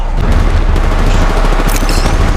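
Continuous heavy gunfire and booming shots in Apex Legends Mobile, loud and close, forming a dense, unbroken barrage.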